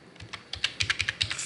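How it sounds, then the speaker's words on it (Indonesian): Keystrokes on a computer keyboard while entering a VLOOKUP formula in Microsoft Excel: about a dozen crisp, close clicks in an uneven, quickening rhythm, with no talking. "pada keyboard kita ketik"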